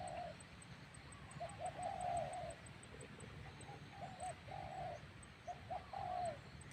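Repeated low cooing calls of a spotted dove, soft rounded notes in a steady rhythm with brief gaps, moderately distant in a quiet setting.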